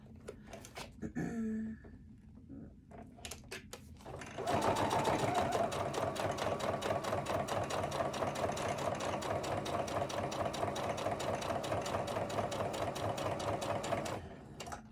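A sewing machine runs in a long steady burst while stitching a notepad, after a few quiet handling clicks and a short start, its rapid needle rhythm loud and close until it stops near the end.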